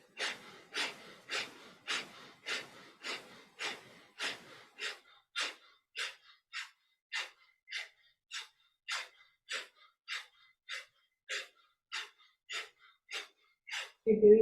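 Rapid, rhythmic forceful nasal breaths of breath-of-fire yoga breathing during a prana/apana meditation class, a steady train of about two dozen sharp puffs, quicker and denser at first then evenly spaced, close and alone.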